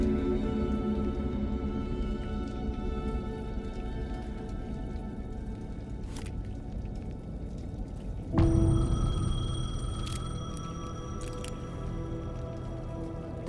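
A payphone rings with a steady electronic tone over constant rain patter and dripping; at one point the ring grows louder and fuller, then continues.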